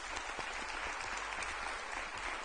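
An audience claps steadily for a panel of admissions experts, a dense, even round of applause from a crowd with no speech over it.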